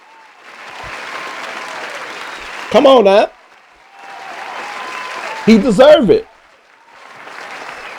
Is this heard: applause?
yes